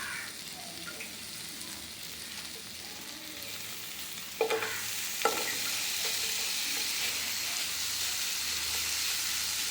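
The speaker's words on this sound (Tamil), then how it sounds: "இந்த சிக்கன் சோசேஜை லேசாக சூடு கட்டி எடுத்துக்கணும்." Chicken sausage frying in butter in a pan gives a steady, close sizzle, broken by two short stir or scrape clicks near the middle and no talking.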